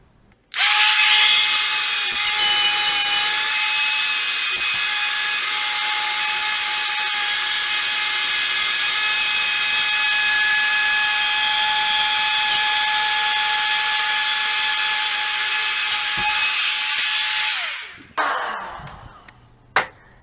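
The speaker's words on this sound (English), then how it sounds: "Now, this tool rotates in a clockwise direction. So whenever you go to cut it, cut your outlet, it is better if you go counterclockwise." A rotary cutting tool routs an outlet hole in drywall in a new basement bathroom, a loud steady high-pitched whine that starts abruptly, holds for about seventeen seconds, then winds down with a short clatter at the end.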